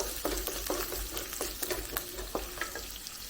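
Onions frying gently in a pan over low heat for a spiced scrambled-egg dish, a steady soft sizzle with repeated scraping stirs of the spatula at an even rhythm, close and alone.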